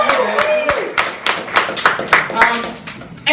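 Audience applause at a stand-up comedy night in a gastropub in Hagerstown, Maryland: a burst of crisp, rapid clapping from a small crowd, mixed with a voice over it.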